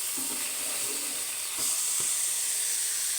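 Fish frying in hot oil, a dense, steady sizzle and hiss that swells slightly partway through, with a couple of faint clicks underneath and no talking.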